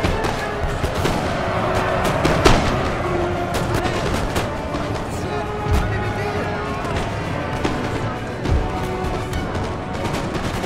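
Musket volleys and artillery fire from a Napoleon: Total War battle crackle steadily throughout, with scattered sharp shots and a few heavier booms punctuating the dense gunfire.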